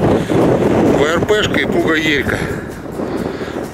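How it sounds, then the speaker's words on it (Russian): Strong wind in an open farm field buffets the microphone with a loud, continuous low rumble and roar, while someone speaks over it close to the mic. "Сразу прошу прощения за ветер."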